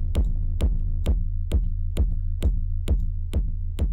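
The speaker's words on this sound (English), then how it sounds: "It's just a simple sine wave with a pitch envelope on it, and it's distorted with multi-band distortion to give the kick a lot of character." Distorted techno rumble kick built from a sine wave with a pitch envelope and multi-band distortion in Ableton 12: nine evenly spaced, punchy kicks over a continuous deep droning rumble, loud and alone.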